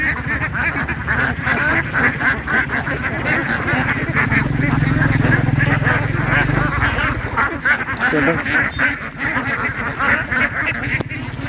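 A flock of thousands of ducks quacks in loud, overlapping bursts close by while drinking water, chattering continuously with a low droning hum in the middle.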